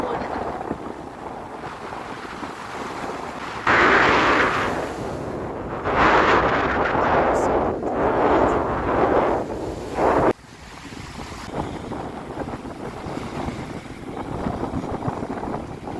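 Strong gusty wind at Kapchagay reservoir near Almaty roars steadily across the microphone, surging louder in several long blasts with a surf-like rush of water beneath.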